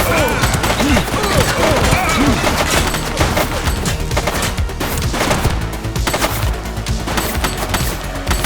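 Gunfire erupts in The Precinct video game as a loud, dense volley of overlapping shots and rapid bursts crackles continuously, with brief shouting mixed in underneath.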